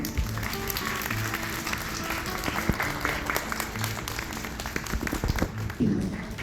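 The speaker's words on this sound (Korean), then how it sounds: "큰 박수로 환영해 주시기 바랍니다." Audience applause at a countryside wedding ceremony as the officiant is welcomed, steady clapping filling the room for several seconds with faint voices underneath.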